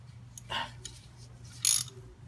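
A socket wrench tightens a screw with two short ratcheting bursts, faint and close, separated by quiet pauses.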